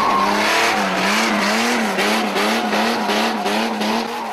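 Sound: Mitsubishi Lancer Evolution drifting, tires squealing

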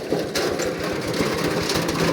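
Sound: two-wheel walking tractor engine running

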